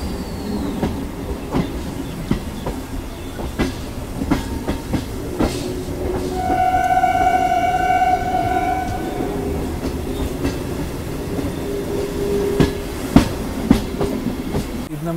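A MEMU passenger train runs on the line between Tumkur and Bengaluru with a constant loud rumble and scattered rail clacks. A sustained tonal whine rises midway and then fades back into the running noise.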